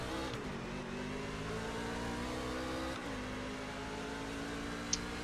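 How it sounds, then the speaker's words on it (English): Close, steady engine roar of a race truck in iRacing at Dover, tires spinning at the start, with harmonic pitch sweeps as revs climb and settle, sustained and loud throughout with no talk. "I spun the tires big on that start"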